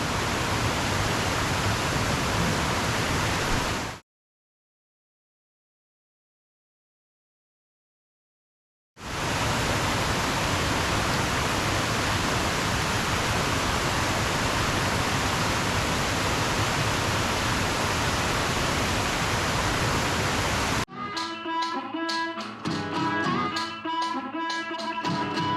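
Loud, constant rushing of water from a creek and waterfall at the Sweet Creek trailhead, close and steady, broken by a few seconds of silence and ending in a different, more textured passage.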